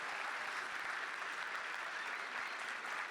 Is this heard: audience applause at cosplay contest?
yes